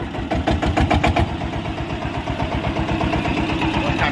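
A geared vehicle's engine is cranked by its starter and fires into a loud, rhythmic idle that continues steadily near the listener, with no talk.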